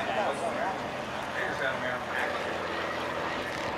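A steady upside-down six-cylinder Ranger propeller-plane engine drones overhead at an airshow with a continuous roar, mixed with faint wind and background chatter.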